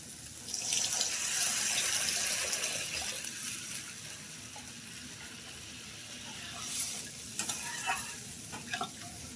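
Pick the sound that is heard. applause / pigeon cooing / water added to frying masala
water added to frying masala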